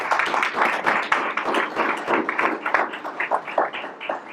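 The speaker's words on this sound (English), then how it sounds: "let's give a round of applause to everybody who's involved" An audience at a school board meeting claps steadily, a dense, continuous patter of many hands that holds at an even level throughout.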